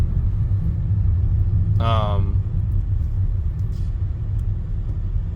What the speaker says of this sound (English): We're moving our car.